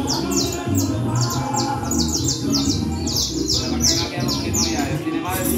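A canary bright, rapid bird song trills and chirps repeatedly over a background of murmuring voices and low noise.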